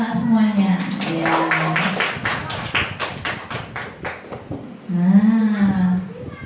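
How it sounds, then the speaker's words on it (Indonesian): Primary schoolchildren clap their hands in a classroom during a science lesson, a burst of loud, close, irregular claps in the middle with a teacher's voice before and after. "Tepuk tangan untuk anak-anak semuanya"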